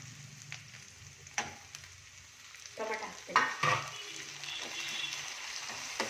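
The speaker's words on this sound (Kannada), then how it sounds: "ಈಗ ಟೊಮೆಟೊ ಹಾಕ್ತೀನಿ." Tomato dropped into a frying potato mix for dosa, a low sizzle with a burst of louder crackling and stirring midway, then settling back to a steady fry.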